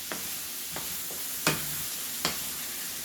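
Burger meat being chopped and browned on a hot griddle for a chopped cheese, with a steady sizzle and several sharp spatula scrapes and taps spaced irregularly, close and fairly loud.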